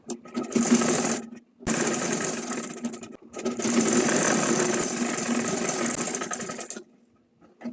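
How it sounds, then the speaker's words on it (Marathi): A sewing machine stitches the side of a folded cloth bag in three loud, steady whirring runs, separated by short pauses, before falling silent at the end. "अशीच आपण दुसरी साईड पण शिवून घेणार आहोत."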